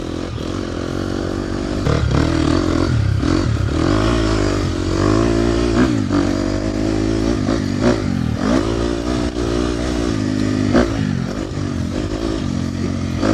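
A 2024 KTM 250 XCF dirt bike rides off-road in the green map with traction control off, its engine droning loud and steady with repeated revving surges and clattering throughout.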